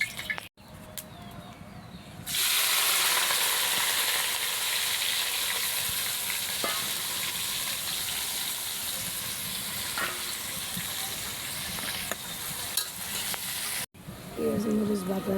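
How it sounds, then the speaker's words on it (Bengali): A paste of onion, chili, ginger and garlic hits hot oil for khichuri and sets off a loud, steady sizzle that holds for several seconds before cutting off abruptly. "পেঁয়াজ মরিচ বাটা হয়ে গেছে, আদা রসুন বাটা দিয়ে দিলাম।"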